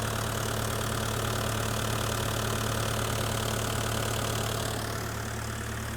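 A diesel engine idles with a steady, dense mechanical drone and knocking clatter, close and constant, easing slightly near the end.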